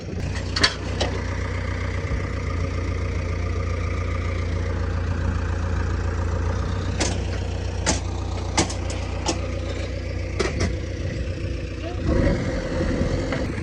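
A tractor loaded with manure sits stuck in a field, its diesel engine idling with a steady low rumble throughout, punctuated by occasional knocks and clanks, and a voice talks faintly over it.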